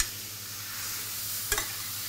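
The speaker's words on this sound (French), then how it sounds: "Alors que les légumes, ils commencent à être nacrés, là, tout doucement, avec l'huile" Vegetables sauté gently in oil for a vegetable and chicken broth, a soft continuous sizzle with a low hum underneath and one brief clink partway through.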